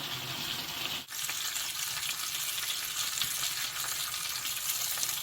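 Marinated pork chop frying in a pan for lunch, a steady close sizzle with crackling oil spatter running throughout and a brief dip about a second in, no talking.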